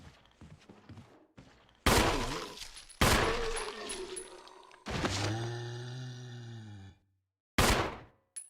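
Gunfire from the 2002 Resident Evil game, several loud sharp shots in quick succession, each with a ringing echo, plus a long droning groan-like tone afterwards; no one talks.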